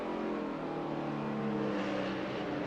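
NASCAR Cup race car accelerating through turn 11 at Sonoma Raceway, a steady, loud engine drone with a rising whine heard from onboard, continuous throughout.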